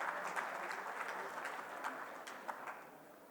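An audience claps through a valedictory session of a conclave in Chandigarh. The applause is steady and moderately distant, with a few sharper individual claps standing out.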